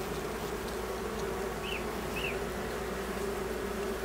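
Local honey bees buzzing steadily and loudly close by, a continuous droning hum with a couple of brief higher insect whines passing through, no voices present.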